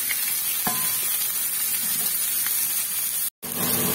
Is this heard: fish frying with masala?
yes